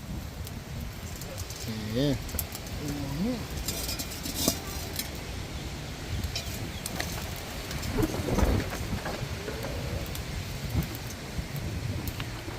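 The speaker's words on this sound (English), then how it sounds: "Rain, whole heap of rain and whole heap of wind" Steady rain hisses across surfaces with gusty background noise, while a bird coos briefly and a person says a word.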